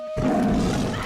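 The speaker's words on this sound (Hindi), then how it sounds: "ये मेरे पेट की आवाज है।" Stomach growling from a cartoon, rendered as a short, loud, rough roar that rises abruptly and holds steady for about a second, resembling a big cat's growl.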